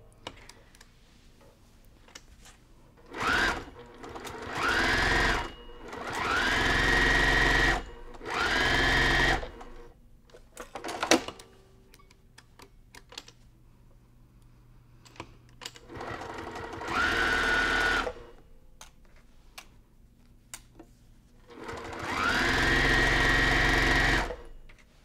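Sewing machine stitching a seam on a pillow made from a jelly roll of fabric strips, running in several separate bursts of a few seconds each with quiet pauses and small clicks between them.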